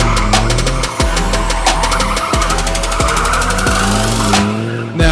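Dodge Viper driven hard on a racetrack, engine roaring loud and close with rapid revving pulses and brief tire-squeal bursts, cutting out near the end.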